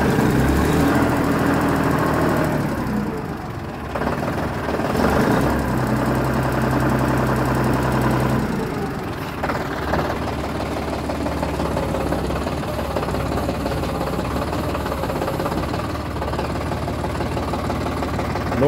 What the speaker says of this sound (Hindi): बहुत ही जानदार और शानदार आवाज़ है ट्रैक्टर की।